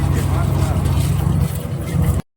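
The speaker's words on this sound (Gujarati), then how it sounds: "જો આ ટ્રેક્ટર આવી ગયું છે અહીંયા" A tractor's engine rumbles steadily as it arrives in a village field, a loud, low continuous drone that cuts off abruptly.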